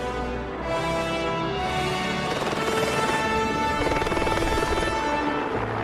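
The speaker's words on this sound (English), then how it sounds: "we got very, very good at loading in and out of choppers" A helicopter flies nearby, its steady, loud rotor chop and turbine whine filling about six seconds with a continuous throbbing beat.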